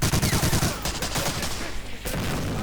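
Rapid bursts of gunfire crackle continuously, loud and dense, like an ongoing firefight in the video game Medal of Honor: Breakthrough, with a sniper firing from above.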